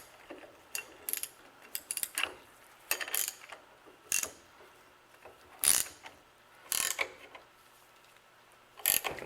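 Clamp work on the yoke clip of a 1993 GMC Sierra truck, heard as scattered metallic clicks, ratcheting snaps and clunks in irregular bursts, fairly close and alone against a quiet background.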